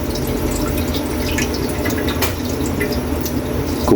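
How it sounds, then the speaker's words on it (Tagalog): Water pours steadily into a cooking pot, a continuous splashing rush with faint drips, close by and without talk. "Lagay tayo ng tubig."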